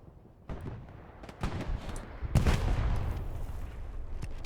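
Artillery strikes land in the World War II shooter Hell Let Loose at Pierre's Farm, a series of deep booming impacts and scattered gunfire, growing heavier and more continuous toward the end.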